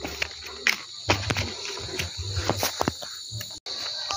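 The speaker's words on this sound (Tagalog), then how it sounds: "May mga kuliglig na." Insects, likely crickets, chirp in a mountain forest: a steady high shrill trill runs throughout, with scattered rustles and brief clicks nearby and a short dropout near the end.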